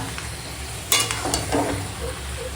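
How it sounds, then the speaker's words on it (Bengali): Mutton coated in ginger, garlic, onion, yogurt and spices sautéing in a pan, a constant close sizzle with a few scraping stirs partway through, no voices. "তো এখন মাংস কষাবো সব মশলাপাতি দিয়ে দিয়েছি আদা রসুন পেঁয়াজ আর টক দই দিয়ে মাখানো ছিল মাংসটা"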